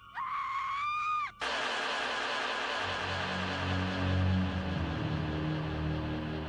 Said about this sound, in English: They ignored the screams that echoed through the woods that night.